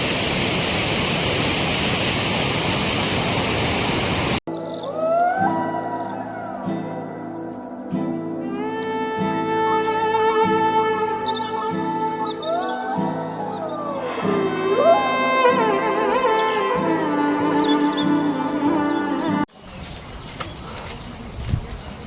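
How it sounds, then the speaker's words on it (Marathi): Devkund waterfall in Maharashtra makes a loud, steady rushing roar that fills the opening and closing seconds, while bird-like tonal calls and melodic chirps dominate the middle stretch. "इथं आहे हा धबधबा देवकुंड ज्याला आपण देवकुंड म्हणतो."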